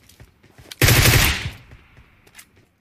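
Video game gunfire from a low-recoil weapon, a rapid burst of about ten close, loud shots in under a second, trailing into a brief echo with a faint later pop.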